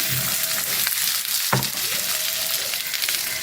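Cashews and almonds are sautéed in a hot pan, a loud steady sizzle close by with a sharp stirring knock midway and light scraping throughout; no one speaks.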